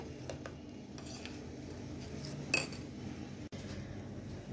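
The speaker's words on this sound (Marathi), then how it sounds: "त्यात हे व्यवस्थित मिक्स करून घेऊया" A spoon clinks and scrapes faintly against a bowl while dessert mixture is stirred into boiled and cooled milk, with scattered light taps and one louder clink.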